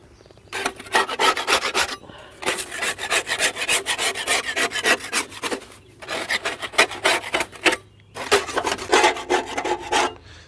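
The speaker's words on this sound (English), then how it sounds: "I'll just scrape it off with a putty knife." A putty knife scrapes caked grass off the underside of a lawn mower deck in long, rasping strokes, close and loud. The strokes come in three runs with brief pauses between them.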